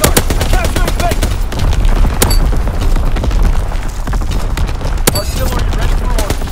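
Division artillery and gunfire in a Call of Duty WWII domination match, with several sharp booming shots standing out over a constant din of battle noise and scattered clattering, loud and close.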